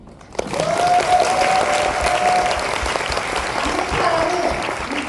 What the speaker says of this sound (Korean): 다시 박수를 주세요